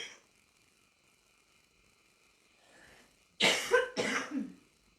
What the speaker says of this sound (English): Cough and a sneeze.